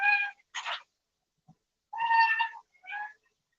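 A young dog makes high, cat-like whining howls for attention, four drawn-out cries in two pairs separated by a short quiet gap, fairly loud and close with no talking.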